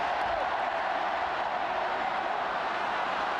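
Mayo supporters in the stands at the 1989 All-Ireland senior football final against Cork, a dense, steady roar of a large crowd cheering continuously at a distance, with no individual voices standing out.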